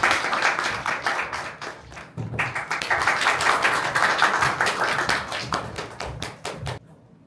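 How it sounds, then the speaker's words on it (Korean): Sustained applause from an audience at a literary evening marking a writers' centenary, dense clapping throughout that thins and fades out at the end. "큰 박수 부탁드립니다"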